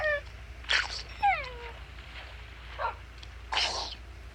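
Dogs in the Minecraft video game give a few short, high, falling whimpers and yips, heard close and clear with faint scuffs between them and no talking.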